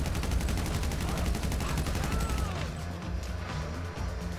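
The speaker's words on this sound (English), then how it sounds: "Just what I need with my Tommy gun." Rapid automatic Tommy gun fire during a heist mission in GTA V on PC, continuous close bursts with a regular rattling rhythm that eases slightly near the end.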